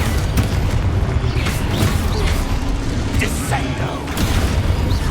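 Blasting-spell explosions go off in Hogwarts Legacy combat, deep booms and crashing bursts rolling over a dense low rumble, while a player shouts spell names over the top.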